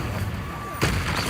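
A Confringo spell blast in Hogwarts Legacy, a sharp booming explosion landing over continuous game background noise, close and loud.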